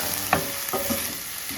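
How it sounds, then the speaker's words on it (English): Three garlic cloves and onion being stirred in a pan of canola oil over low heat, a soft steady sizzle with a few scraping spoon strokes, close and alone. "we're gonna go ahead and add a little bit, the 3 garlic cloves. And give those a stir."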